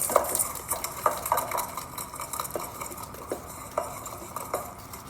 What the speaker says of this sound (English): now we're mixing everything together. The dry ingredients and the wet ingredients.